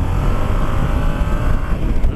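Yamaha MT-07 Tracer motorcycle engine pulling in third gear around 4000 rpm, a loud, steady, close rumbling drone with rushing wind over the whole stretch.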